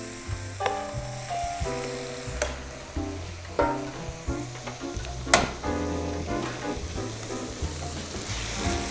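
Tomatoes stir-fried in a pan over medium heat, a steady sizzle broken by repeated scraping and clacking strokes of a spatula lightly tossing the food.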